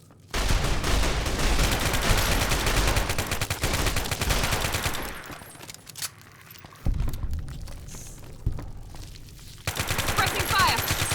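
Heavy gunfire from Fallout: New Vegas, with dense sustained bursts of rapid shots, brief lulls and renewed volleys, loud and close, with some voices mixed in.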